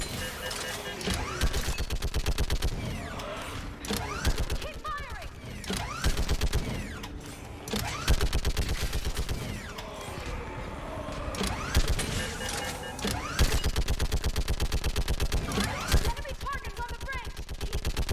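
Sustained bursts of rapid automatic gunfire crackle through a battle in the video game Mass Effect 3, with mechanical creaks and clanks mixed in. Shouted voices break through the dense, continuous shooting.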